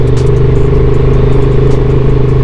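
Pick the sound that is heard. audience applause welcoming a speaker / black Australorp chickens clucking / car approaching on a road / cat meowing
car approaching on a road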